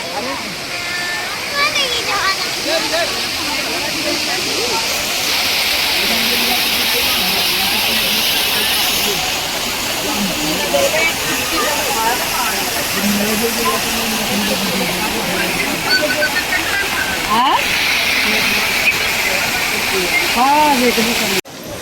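Water pours down an artificial Govardhan hill display at Prem Mandir temple in Vrindavan as a continuous loud rushing flow. Voices of people talking rise over it throughout.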